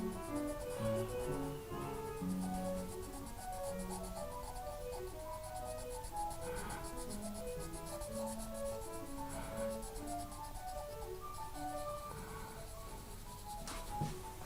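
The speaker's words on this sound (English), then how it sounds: "I'm going to use brown to shade in the shape of the tenon." A brown pencil shades in a sketched tenon shape on paper, a faint continuous scratchy scribbling with short strokes, close and quiet, with no voices.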